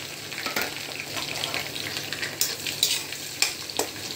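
Chilies and onions fry in hot mustard oil with cumin and mustard seeds, giving a steady close sizzle broken by sharp crackles and pops and occasional stirring scrapes, with no voices.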